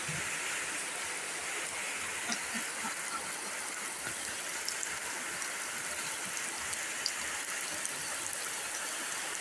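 Steady rain patters onto a duck farm pond, a dense even hiss with scattered tiny splashes, moderately loud and continuous with no voices.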